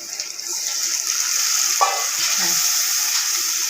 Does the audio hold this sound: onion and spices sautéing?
yes